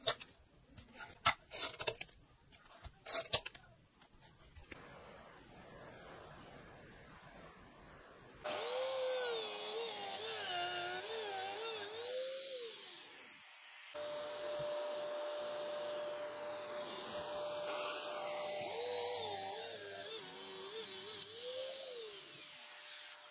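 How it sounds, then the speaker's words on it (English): A router cutting humbucker pickup cavities into the body of a scratch-built, pink, fabric-topped semi-hollow Jazzmaster guitar, a steady loud high whine with sweeping pitch changes, following several seconds of sharp handling clatter. "So I'm gonna pop all this off and router out my humbucker holes."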